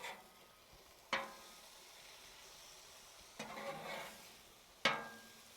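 An Oklahoma onion burger patty is flipped on a hot griddle, giving three sharp spatula scrapes spaced a couple of seconds apart over a steady, quiet sizzle.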